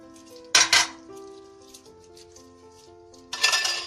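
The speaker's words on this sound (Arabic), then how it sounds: "راح احط الفليفله اللي انا قطعتها وفرمتها" Chopped, finely minced bell pepper tipped into a dish of oven kebab with vegetables, landing in two short bursts of clattering, rustling bits against the pan, with quiet kitchen tones between.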